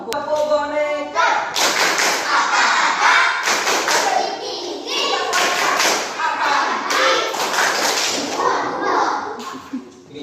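A class of young children claps and chants together in a tepuk boneka clapping game, rhythmic group claps mixed with their voices, fairly loud and close, with a teacher's voice leading.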